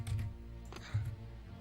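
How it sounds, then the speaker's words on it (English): Rapid computer keyboard keystrokes during PC play of Star Wars: Shadow of the Empire, a few close clicks in two short bursts over a steady low hum, with no talk. "I'm gonna have to turn with the keyboard."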